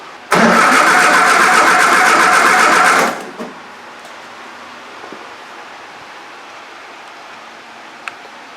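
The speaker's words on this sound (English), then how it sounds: "Go ahead and start it. Probably is not going to start right away, so it might take me a second here." A Triumph Spitfire engine is started, with a loud, close cranking burst of about three seconds that cuts off into a quiet hum and a few faint clicks.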